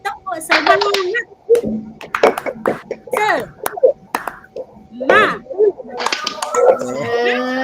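A classroom of adults in a peer-teaching lesson doing a rhythmic spirit clap, sharp claps in quick patterned bursts mixed with voices calling along and talking throughout.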